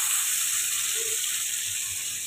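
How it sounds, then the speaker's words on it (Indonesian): Ground spice paste sizzles steadily in hot frying oil, a loud, continuous close-up hiss with faint stirring bumps underneath and no talking. "Masukkan bumbu halus."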